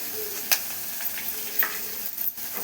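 Curry leaves and cumin seeds frying in oil in a pan for a Rayalaseema-style gongura dish, a steady soft sizzle with a few sharp crackles and spoon scrapes, close and fairly quiet.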